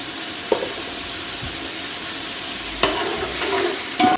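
Beef pulao masala with chilli powder and garam masala frying in a pan: a continuous soft sizzle with occasional sharp clinks and scrapes of a spoon stirring, close and moderately quiet.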